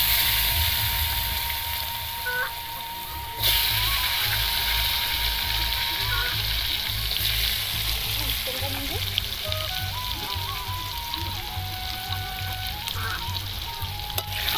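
Potatoes fry in hot oil after fish has been fried in it, a loud steady sizzle with occasional scraping stirs and soft clinks, close up, with background music and some talking over it.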